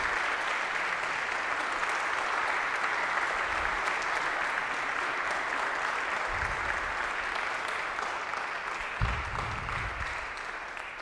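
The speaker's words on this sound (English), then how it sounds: "thank your spouses, family members, parents, and others who have helped make this moment possible for you with a round of applause" Seated audience at a seminary call day ceremony gives sustained, even applause, a dense wash of many hands clapping steadily without voices.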